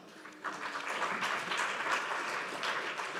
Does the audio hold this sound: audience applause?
yes